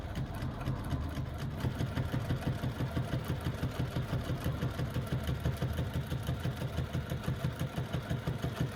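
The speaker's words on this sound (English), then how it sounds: "So let's do 1 line of top stitching, and I've increased my stitch length up to 4." A sewing machine runs a line of top stitching at a long stitch length, a steady fast rhythmic whirr and needle thump heard up close and without pause, with no voices.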